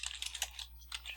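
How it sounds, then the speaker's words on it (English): Login credentials are typed on a computer keyboard in a short, close burst of quick, irregular keystrokes, clicking softly on their own. "It tends to work best if you hit change and retype the credentials"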